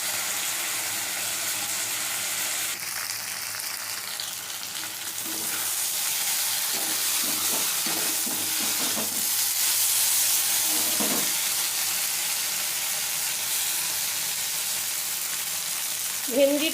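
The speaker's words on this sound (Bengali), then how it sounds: "মিশিয়ে নিচ্ছি। ভালো করে কষিয়ে নেব।" Sliced okra frying in a pan with hot oil for vendi posto, a steady close sizzle broken by clinks and scrapes of a spoon stirring, with no voices.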